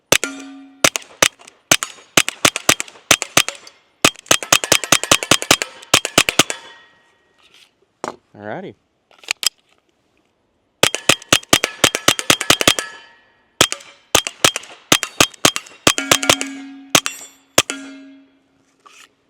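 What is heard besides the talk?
Smith & Wesson M&P 22X pistol firing .22 rounds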